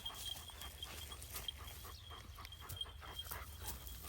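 A dog tied up for the first time gnaws at its rope with its teeth, panting and giving small whimpers and yips close by, with no talking.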